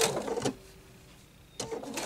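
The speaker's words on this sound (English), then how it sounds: "This sewing machine will go quite fast." A household sewing machine running at high speed, giving two short bursts of rapid mechanical whirring separated by a near-silent pause, close and clear.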